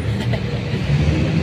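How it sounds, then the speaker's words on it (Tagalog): Steady road traffic rumbles outside a Robinson mall on a windy day, a continuous broadband wash of passing cars and engines with no clear pauses. "Traffic pa dito."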